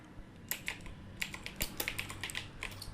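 Someone types briskly on a computer keyboard, producing a quick run of close, light key taps in uneven clusters with no voices.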